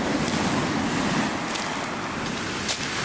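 Surf breaks on a steep, dangerous beach with a strong undertow at Birdlings Flat, New Zealand, a continuous broad wash of waves mixed with wind noise, steady and fairly loud throughout.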